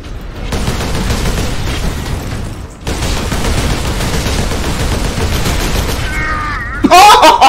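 Gunfire in a video game duel, a dense clatter of shots in long bursts with a brief gap, ending in a sharp loud burst.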